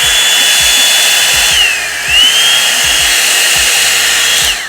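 A hair dryer runs loudly and steadily at close range, its high whirring tone dipping briefly in pitch midway before recovering, with no voices over it.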